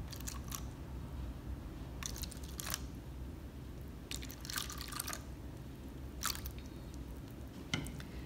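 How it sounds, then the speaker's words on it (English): Water being added to liquid turquoise watercolor paint in a container, faint scattered drips and wet squishy splashes in short bursts over a quiet background, no voices. "I'm just gonna add a little bit of water."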